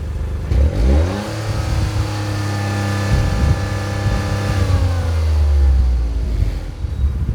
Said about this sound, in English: The engine produces a throaty burble out of the triple exhaust that is unique in sound.